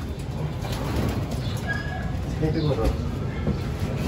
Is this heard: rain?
no